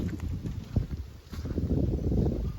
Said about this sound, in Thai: ใช่ลมแรงมากเลยนะ